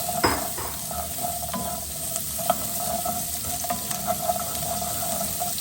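Carrots fry in coconut oil in a non-stick pan, a steady close sizzle with faint stirring clicks and scrapes.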